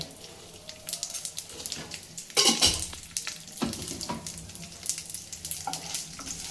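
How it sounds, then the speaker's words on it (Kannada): Chana dal and urad dal fry in hot oil in a pan, a steady close sizzle broken by a few louder bursts of crackling and stirring, with no voices over it. "ಸೊ ಇವಾಗ ಕಡಲೆಬೇಳೆ, ಉದ್ದಿನಬೇಳೆ ಹಾಕಿ"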